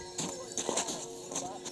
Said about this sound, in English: All right, Melly, we're walking after this horse